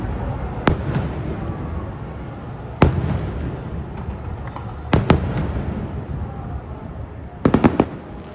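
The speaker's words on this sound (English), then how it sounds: "watching the Disney" Disney fireworks burst in a series of booms and crackling pops heard from a distance over a continuous rumbling crowd ambience, with a rapid cluster of bangs near the end.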